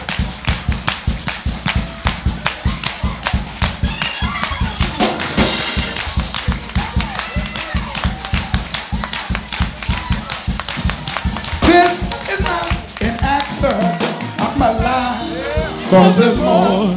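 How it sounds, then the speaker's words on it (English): Congregation at a church service clapping hands in fast, steady rhythmic unison, loud and sustained with voices and shouts mixed in. "I want you to clap like you got the devil's head between your hands."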